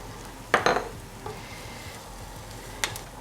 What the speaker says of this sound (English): Let that fry for a second.